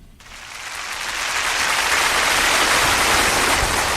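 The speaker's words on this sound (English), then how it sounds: "Now the claps." Recorded applause plays as a sound effect on a radio show. The dense, crowd-like clapping swells in quickly, then holds steady and loud with no voices over it.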